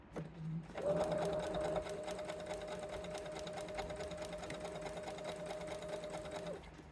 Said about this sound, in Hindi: बिल्कुल सेंटर में एक स्टिच ले लूँगी मैं